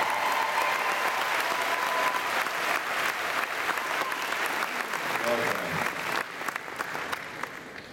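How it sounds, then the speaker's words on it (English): Sustained applause from a concert audience at a Sounds of Scotland show, loud and dense throughout and tapering slightly near the end, with a voice speaking partway through. "show him another round of applause"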